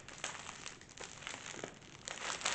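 Foil wrapper of a Walcor Easter egg being torn open, giving close, continuous crinkling and crackling that grows slightly louder toward the end.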